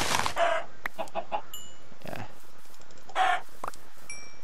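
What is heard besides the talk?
chicken clucking in the video game Minecraft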